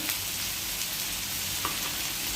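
Rupchanda pomfret fish frying in oil in a pan, a loud, dense, continuous sizzle heard close up with a few faint clinks.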